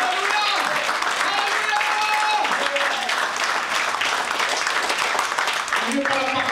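Loud, sustained applause from a large church congregation, steady clapping throughout with a few voices rising faintly above it.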